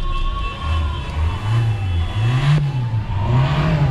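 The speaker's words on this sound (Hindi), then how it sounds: "एक बार मैं आपको कार के अंदर एक्सीलेटर लगा के चेक करा देता हूँ" A rebuilt Hyundai Elantra engine revs steadily as the accelerator is pressed, its pitch climbing and falling in several close, loud surges with no voices.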